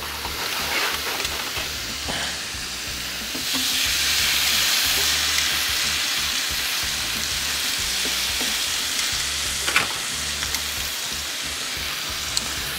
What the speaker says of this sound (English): Nice, listen to that sizzle.